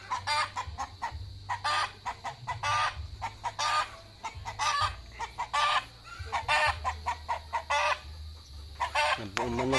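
Chickens cluck in repeated bursts while a rooster crows at a Filipino farm hut, the calls close and loud with short pauses between them.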